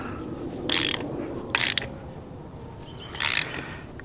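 Socket wrench ratcheting on a spark plug of a 1988 Evinrude 200 hp V6 outboard motor, three short bursts of close, crisp clicking with pauses between.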